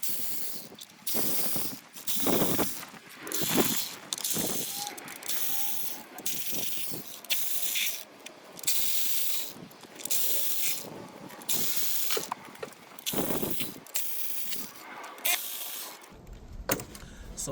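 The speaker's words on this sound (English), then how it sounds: "now we'll speed up the process using the impact ratchet" A pneumatic impact ratchet loosens the fourteen valve cover bolts on a Hyundai Elantra 2.0L engine, heard as repeated loud bursts of rapid rattling hammering separated by short pauses, with no talking.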